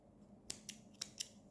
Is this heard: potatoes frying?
no